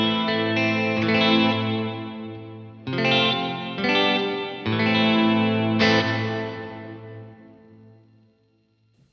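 Electric guitar played through a Universal Audio UAFX Heavenly Plate reverb pedal with a brighter EQ setting, sustained chords struck several times, shimmering plate reverb tail ringing out and fading to silence at the end.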